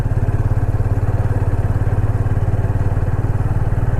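Motorcycle engine running close and loud while riding through a misty mountain village near Darjeeling, a steady rapid low thumping pulse.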